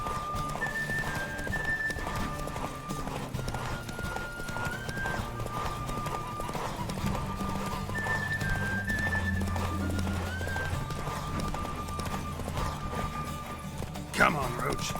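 Roach the horse gallops in The Witcher 3, steady clip-clop hoofbeats running under game music with an occasional whinny and a sharp thud near the end.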